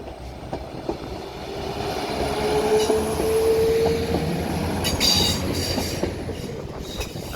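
A Northern class 195 diesel train departs Manchester Piccadilly, its rumble and rolling wheels building steadily with a long squeal partway through, heard from the platform at moderate distance.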